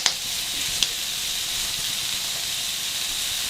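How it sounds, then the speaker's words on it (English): Seasonings sizzle in hot oil for fried brown rice with vegetables, a steady close hiss with a couple of sharp pops near the start. "Sometimes I put my seasonings right inside of my hot oil."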